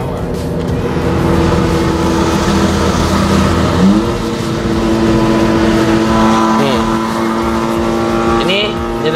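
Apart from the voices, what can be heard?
Honda Civic Type R exhaust rumble heard inside the car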